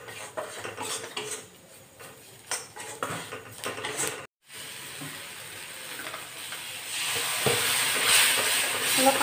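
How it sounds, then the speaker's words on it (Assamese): Flour being fried and stirred in a pan for a simple white pasta sauce, with a spoon clinking and scraping against the metal over a soft sizzle, growing louder and hissier toward the end after a brief pause. "এইখিনি ফ্ৰাই কৰি ল'ম।"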